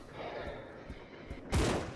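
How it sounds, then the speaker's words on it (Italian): Gunfire in the survival horror game Resident Evil Zero: a rapid burst of shots with a sharp loud blast near the end, mixed with game sounds. "Che cazzo ti spari?"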